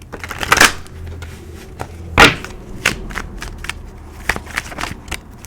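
Tarot cards being shuffled by hand, sounding as separate crisp riffles and snaps with irregular pauses between them, close and fairly loud against a quiet room.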